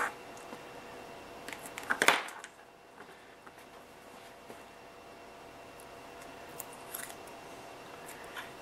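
A short snip of double-sided sticky tape being cut with scissors during a Tamiya 1/14 Grand Hauler semi truck model build, a single crisp cut standing alone in a quiet room.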